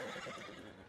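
A horse in Red Dead Redemption 2 gives a single short, close neigh with no talking.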